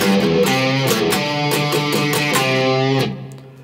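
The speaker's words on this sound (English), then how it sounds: "My guitar is in standard tuning and I've got loads of gain using a Sir Riot pedal." High-gain distorted electric guitar in standard tuning, driven through a Sir Riot pedal, playing a riff: loud, buzzing chords in a choppy rhythm that ring out and fade at the end.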